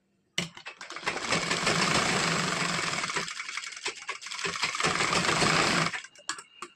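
A sewing machine runs a thin line of stitching along the lining of a tuck blouse, whirring steadily in two long bursts with brief pauses and a few clicks between, close and clear, no talk.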